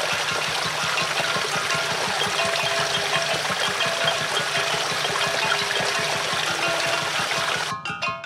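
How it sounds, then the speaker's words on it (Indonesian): Water being drawn from the Oek Leung river in Boti, a steady close rush of flowing, splashing water running without pause, with a brief rattling clatter near the end. "Mereka mengambil air di sungai Oek Leung."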